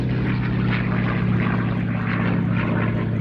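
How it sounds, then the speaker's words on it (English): A Grumman Bearcat with its big R2800 radial engine passes at an air festival, a loud, steady propeller drone with a deep, even rumble that holds throughout, no voices over it. "The big R2800 engine just humming along there."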